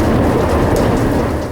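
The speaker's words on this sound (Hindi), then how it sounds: "उस शाम बहुत तेज बारिश हो रही थी। बिजली की गरज से पूरा आसमान गूंज रहा था।" Heavy rain pours steadily with a deep rumble of thunder underneath, loud and continuous, no voices.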